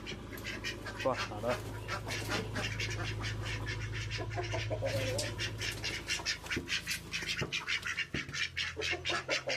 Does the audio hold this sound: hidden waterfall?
no